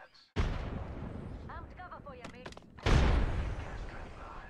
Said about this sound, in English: Someone over there throwing nades too